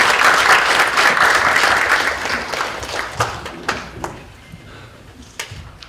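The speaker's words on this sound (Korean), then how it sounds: "여러분 큰 박수로 쏴주세요." Audience applause at a Gyeonggi Province disability welfare forum, a dense wash of clapping that is loud at first, then thins and fades, leaving scattered individual claps toward the end.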